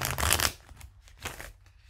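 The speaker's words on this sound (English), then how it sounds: "Let me just get a little bit more of a shuffle" Tarot cards are shuffled by hand in two quick riffling bursts, the first louder and closer, then softer flicks trailing off.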